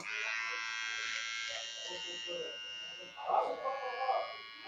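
An electric zero trimmer buzzes steadily while cutting a beard in Arabic style, a close, bright whine that roughens and fluctuates as it bites into the hair, with a voice talking faintly underneath.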